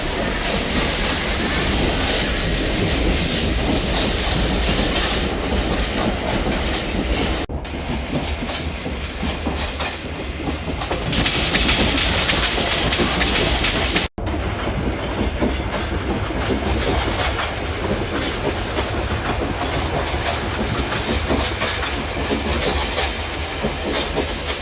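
A train simulator video game plays a continuous loud rumble of a running train with rhythmic wheel clatter, steady throughout apart from two brief dropouts.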